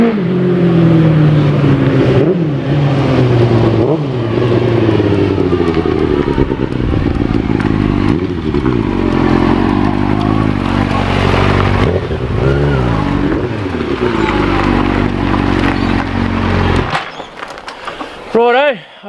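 A motorcycle engine revs loudly close by, its pitch rising and falling repeatedly before the engine cuts off near the end.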